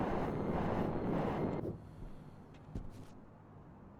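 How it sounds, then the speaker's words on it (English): Jetpack thrust in a low-gravity space game on the Europa terrain: a loud, broad roaring hiss for about a second and a half, then cutting off to quieter rumble with a few soft thuds. "I'm going to have to use the jet."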